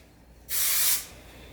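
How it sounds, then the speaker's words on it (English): One short burst of hairspray hisses from a can, aimed into the interior of a curl product tub, close and bright, about half a second long, with quiet room tone before and after. "I like to pick this up and spray hairspray inside in the interior"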